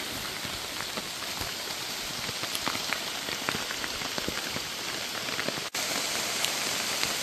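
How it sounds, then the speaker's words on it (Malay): Steady heavy rain pours down, a dense hiss of drops spattering on surfaces throughout, with no voices. "Tiba-tiba hujan turun dengan lebatnya."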